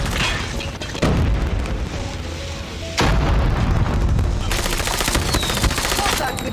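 Rapid gunfire from an OTs-9 submachine gun in a first-person shooter video game, loud dense bursts with booming impacts filling the clip, broken by brief gaps near the first and third seconds.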